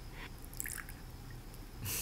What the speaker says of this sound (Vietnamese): Đây đây, để anh rót nước cho.